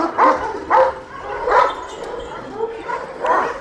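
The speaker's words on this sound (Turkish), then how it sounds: "Çok büyük ya. Büyük köpekler." Several deep, loud barks from large Kangal dogs come in irregular bursts close by, with faint background murmur between them.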